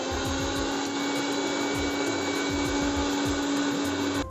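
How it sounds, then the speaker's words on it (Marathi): A kitchen mixer blends chopped beetroot with water in a loud, steady whirring grind that runs for about four seconds before abruptly cutting off. "त्यानंतर थोडं त्याच्यात पाणी घालून थोडं एक 2 मिनिटं आपण हे फिरवून घेऊया, म्हणजे हे जे बीट आहे ते थोडं बारीक होईल."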